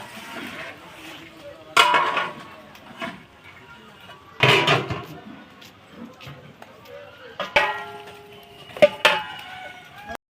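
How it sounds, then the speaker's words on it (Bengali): Large metal cooking pots full of meat are handled and lifted off the fire, with several loud clanks and scrapes scattered among people talking nearby. "প্রথম ডেকচি নামানো হলো"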